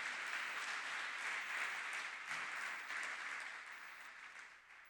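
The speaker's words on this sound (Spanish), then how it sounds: "Dele fuerte ese aplauso al Señor." Congregation in a church applauding the Lord during a sermon on the resurrection, a dense, even wash of clapping that holds steady and gently tapers off.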